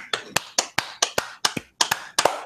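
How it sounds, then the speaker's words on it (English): Slow hand clapping by a few people close by, sharp separate claps spaced about every quarter second, each ringing briefly before the next, with no talk over them. "Slow clap. Get faster."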